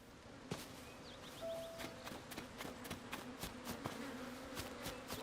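Bees buzzing in Tears of the Kingdom, a steady drone with soft game effects and faint footstep-like taps over it, at moderate level with no talk.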